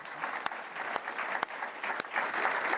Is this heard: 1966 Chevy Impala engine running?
no